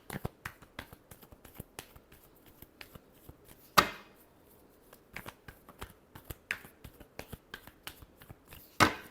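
Tarot cards are shuffled in quick, crisp riffles and taps, a run of sharp papery clicks at an uneven pace with a couple of louder snaps, close and fairly quiet.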